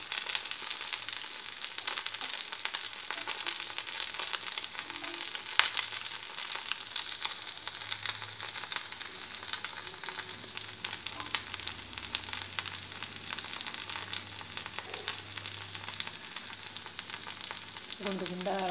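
Millet paniyaram batter sizzles steadily in a stone kuzhi paniyaram pan on a low stove flame, a continuous close frying hiss with faint clicks and no talk.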